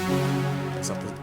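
A short, bright, unfiltered layered synth chord of brassy and polyphonic tones sustains, with an airy high-end sheen and no talking.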